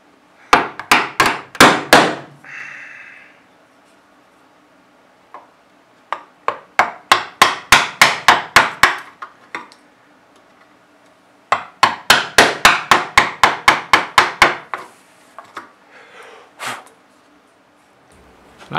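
Chisel work clearing dovetail waste in wood for a chest of drawers: three runs of sharp, evenly spaced mallet strikes, loud and close, separated by quiet pauses with a few scraping sounds.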